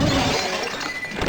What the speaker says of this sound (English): Shatter against the ground, why don't you?